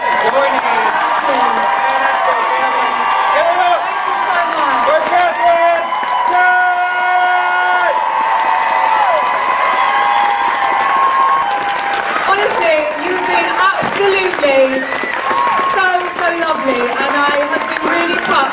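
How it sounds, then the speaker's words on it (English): A convention crowd at a Fan Expo Dallas 2017 panel claps and cheers loudly, with whoops and raised voices riding over sustained applause that runs the full length. "I think we need to give her a big round of applause for joining us."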